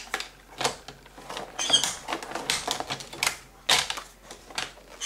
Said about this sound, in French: voilà, je fais mon pli ici.